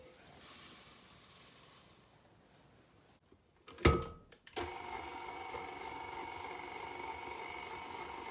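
After a quiet stretch and a loud clunk, a stand mixer whirs into a steady mechanical hum as it mixes breakfast-treat batter, holding an even drone to the end.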